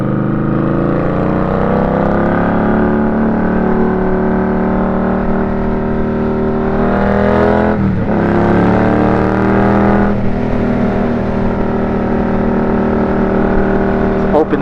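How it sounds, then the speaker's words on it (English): Motorcycle engine on a ride through weekday New York City traffic, droning steadily and loud up close, with rising and falling pitch as it revs and shifts through the gears. "open this engine up a little bit."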